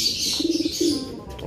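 A kept racing pigeon gives a short run of soft, pulsing coos followed by one longer coo, fairly close, over a steady hiss of background noise.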